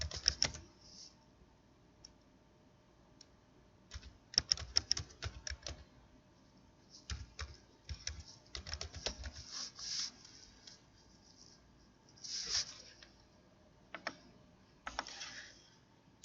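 Computer keyboard typing while entering a question statement into a Moodle quiz, with quiet, irregular bursts of clicking keystrokes separated by short pauses, close and faint, with no talking.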